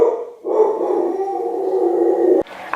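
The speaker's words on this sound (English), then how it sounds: "Every single video that I do, my dog has to start barking." A dog barks and howls close by indoors, a sustained, loud tonal howl-bark after a brief opening yelp, cut off abruptly near the end.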